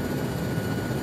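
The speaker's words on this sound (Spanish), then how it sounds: "Pero es un helicóptero de apoyo. Es un Cobra." A Cobra support helicopter in a Vietnam-era military video game gives a steady, dense rotor and engine roar that fills the short stretch evenly, with no voices.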